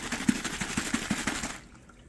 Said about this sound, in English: It takes about 1 minute if we continuously shake the water.